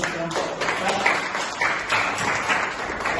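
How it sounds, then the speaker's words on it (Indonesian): A class claps hands together in a classroom lesson, a close, busy patter of clapping mixed with voices speaking over it for about three seconds. "Tepuk tangannya."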